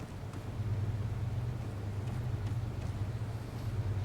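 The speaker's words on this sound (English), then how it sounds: "I hear a vehicle." A friendly technical's engine approaching in a video game: a steady low rumble with a constant droning hum, moderately distant and unbroken, with no talk.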